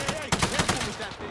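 Rapid automatic gunfire in Call of Duty Warzone, a loud burst of several sharp shots close together over steady game noise, with a voice faintly beneath.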